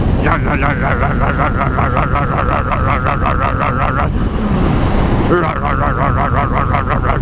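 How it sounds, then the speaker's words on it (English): Diesel pickup truck idling with a pulsing, rhythmic rumble and a rising turbo whine, the whistle cutting out briefly before returning; loud and close throughout. "the ever satisfying sound of turbo spool and idles"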